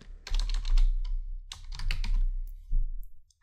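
Fingers type on a computer keyboard in two quick clusters of close, crisp key clicks, then a final tap, with no voices.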